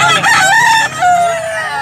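A gamecock crows once, loud and close, in a drawn-out call that falls away at the end.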